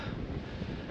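Steady, dense wind buffeting the microphone on a fell walk near High Stile and High Crag, Buttermere, a continuous low rumbling roar with no pauses for the whole second.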